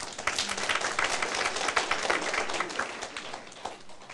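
Audience clapping breaks out at a lecture session on Taiwan's civil government and international relations, a steady, dense patter of many hands filling the room for a few seconds with no voices over it.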